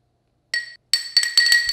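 Syrup is tossed into a pint glass, producing a few sharp, bright glass clinks close up: one short tap, a pause, then a quick cluster of ringing clinks.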